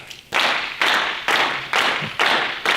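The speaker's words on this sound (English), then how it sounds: "And clap." Hand clapping in a children's musical game from a drum fun series: five or six loud, close, evenly spaced claps in a slow steady rhythm, each sharp burst trailing off before the next.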